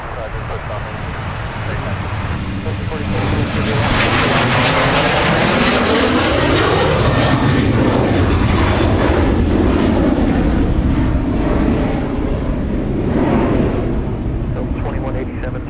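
Delta jet airliner taking off from a runway at Minneapolis–Saint Paul airport, a loud sustained engine roar that swells and sweeps in pitch as it passes, with a thin high radio tone at times.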